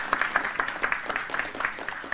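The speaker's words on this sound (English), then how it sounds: "Another applause for our champions." Audience applause for contest winners in a university lecture hall, a steady patter of many hands clapping at moderate volume for about two seconds.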